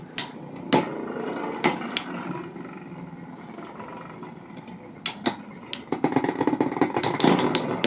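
Beyblade spinning tops clash in a metal tray during a home tournament, giving sharp metallic clicks and knocks at scattered moments and a denser burst of quick hits near the end over a steady whirring hum.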